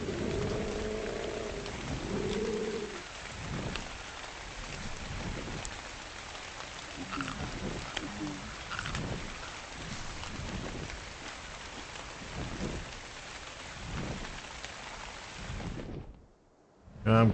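Steady rain with rumbling thunder from a stormy scene in the video game Ark Survival, a dense continuous downpour with a few low rolls, cutting out abruptly near the end.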